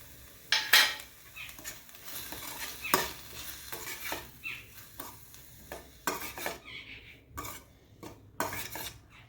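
Boiled corn kernels being stir-fried in a pan, with repeated scraping and clinking of a spatula against metal and a light sizzle underneath, the strokes coming in irregular close bursts.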